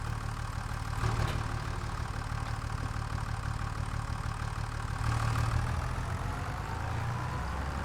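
An old John Deere tractor idles in Farming Simulator 25, a steady low engine drone holding throughout with two brief swells in intensity.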